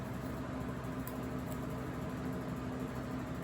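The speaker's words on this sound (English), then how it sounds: "If you hear any noise, it's a fan" A steady, faint whir of a fan running continuously, a constant low hum with broadband airy noise and no other sounds.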